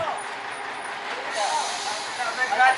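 A locomotive on a long-disused lorry rail track during a test run, giving a loud, steady hissing roar that builds toward the end with a few brief squeals.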